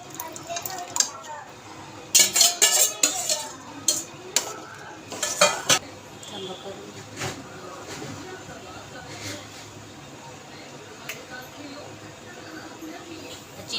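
Garlic, chilli and coriander paste being stirred and sautéed in a pan for a traditional Malvani colocasia-leaf dish, with clinking spoon-on-pan scrapes in a busy burst early on, then a quieter sizzle; a voice talks over it.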